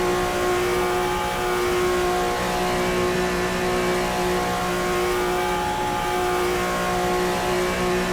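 A Porsche 935 race car engine in Assetto Corsa EVO drones steadily and loudly at sustained high revs, a continuous buzzing tone with no gear changes or pauses.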